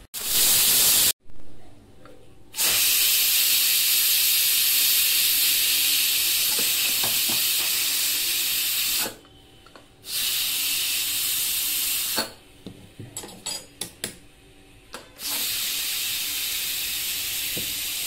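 Pressure cooker whistle hissing out steam while cooking chithakavare (field bean) saaru, a loud continuous broadband hiss broken by several short pauses and sputtering bursts toward the end.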